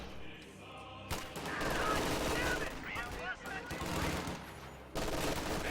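Machine gun fire in a video game battle rattles in rapid sustained bursts with scattered distant shots, carrying on continuously with brief dips in intensity.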